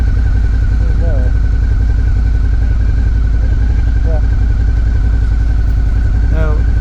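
Motorcycle engine idling and rumbling close by during parking at a wild camp spot on a ride to Scotland, a loud steady low throb with a few brief higher squeaks over it.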